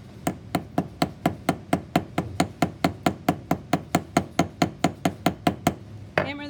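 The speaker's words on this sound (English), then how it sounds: "Hammer the front, flip it over, push it down, hammer the back." Wire pieces are struck with a hammer in a fast, even series of about two dozen sharp close knocks, with a brief clatter at the end.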